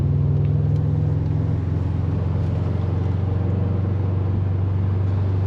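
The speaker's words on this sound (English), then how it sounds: "Such a classic rumble, SuBie rumble." A deep, steady exhaust rumble comes from a stock-clutch Subaru WRX STI Limited at 72K miles, making about 350 hp, while it cruises. The low drone holds evenly throughout with no talking.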